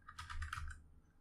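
A short, quick burst of typing on a computer keyboard, several soft clicks in rapid succession up close, fading into quiet with no talking.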